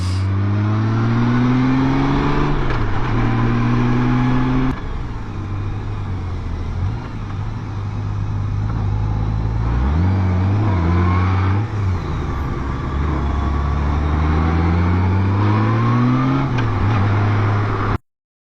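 A car drives along and accelerates repeatedly, its engine climbing through gears with clear shifts and settling between pulls, loud and steady from inside the vehicle for most of the stretch before cutting off.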